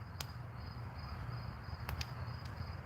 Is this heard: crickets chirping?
yes